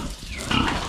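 A pig grunts at close range, a short low snort rising into a brief rougher grunt.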